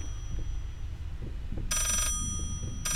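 A ringing telephone in the horror game Layers of Fear gives two bright electronic rings, one long burst and a second starting at the end, over a low murmuring background.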